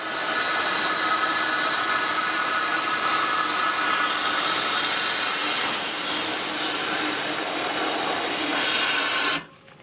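A ShrinkFIT CNC tool change machine runs its fans to cool a tool holder during the quench cycle, giving a loud, steady whooshing roar that holds for several seconds and then cuts off abruptly.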